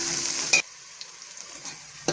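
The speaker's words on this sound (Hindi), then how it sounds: "अब हम दोनों चीज़ों को इकट्ठा भूनेंगे" Onions and chonge (Caralluma fimbriata) frying together in a pan, heard as a soft continuous sizzle with a couple of brief stirring scrapes, close and moderately quiet.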